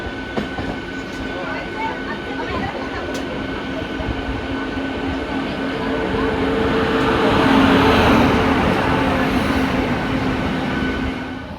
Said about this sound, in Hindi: तो ये थी कामाख्या से रोहतक के बीच में चलने वाली अमृत भारत एक्सप्रेस